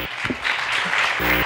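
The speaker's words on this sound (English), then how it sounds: "Please give him a round of applause." Audience clapping at a town hall meeting, a short burst of applause from a crowd indoors, with a brief voice at the start and end.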